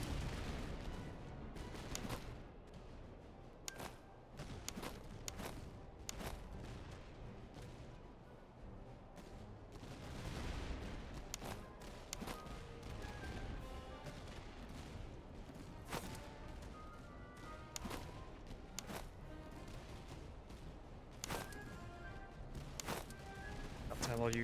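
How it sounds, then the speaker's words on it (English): Scattered musket volleys and single shots crack and boom through a Napoleonic-era battle in the strategy game Master of Command, faint and distant, irregularly spaced over a low battlefield rumble. "You guys take your bayonets off and open fire here."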